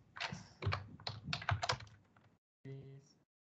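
Keys on a computer keyboard are typed in short bursts of close clicks, then a brief pause and a final few taps, in a quiet room.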